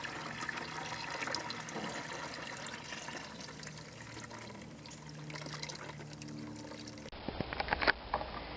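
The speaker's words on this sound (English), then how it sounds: "Just unhook this and let it pour into your bucket." Wash water from a mini washing machine pouring and splashing steadily into a bucket, a continuous rushing trickle that turns to sharper splashes at the end.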